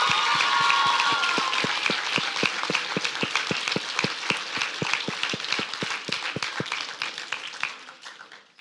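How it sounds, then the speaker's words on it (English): Audience applause at a swim season awards ceremony, a dense round of clapping with a clear steady beat of rhythmic claps running through it, full at first and thinning toward the end. "So let's give them a really big round of applause."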